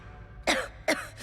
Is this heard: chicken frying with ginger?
no